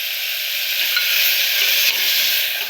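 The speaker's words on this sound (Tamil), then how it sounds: "வெங்காயம் வதங்கும் போது இஞ்சி பூண்டு விழுதை சேர்க்குறேன்" Onions frying in a pan with ginger garlic paste for a potato drumstick paya, giving off a loud, steady, dense sizzle that continues evenly throughout with no talk.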